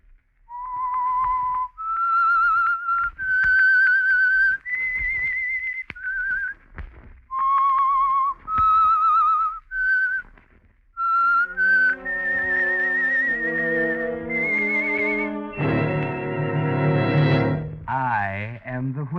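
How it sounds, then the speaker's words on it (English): A clear, melodic whistled tune with long held notes and pauses, the opening theme of the 1946 radio drama The Whistler, then swelling orchestral music joins in and takes over. "That whistle is your signal for the Signal Oil program"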